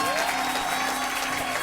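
Applause from a congregation during a wedding blessing ceremony, a dense, steady wash of clapping that fills the short moment at moderate loudness, with a voice faintly audible beneath.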